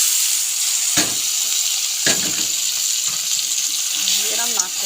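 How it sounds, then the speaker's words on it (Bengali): Boiled lentils and taro leaves are poured into hot oil, giving a steady hiss with a few splashy bursts and gurgles, close and moderately loud. "ডাল কচু পাতা সিদ্ধটা তেলে ঢেলে দিব"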